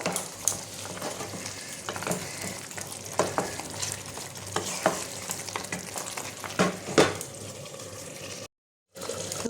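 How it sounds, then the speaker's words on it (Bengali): Makhana (fox nut) curry simmering and being stirred in a pan, steady bubbling sizzle with intermittent spoon scrapes and clinks, ending in a brief silence, no talking. "এবার মাখানাটা দিয়ে একটুখানি ফুটিয়ে নেবো"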